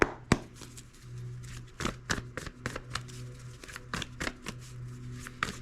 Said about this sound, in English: Let me get these shuffled up super good.